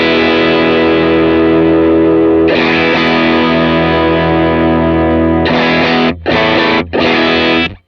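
Electric guitar played through a Line 6 Helix patch, heavily distorted sustained chords ringing loud and thick, then a few short choppy stabs with brief gaps near the end.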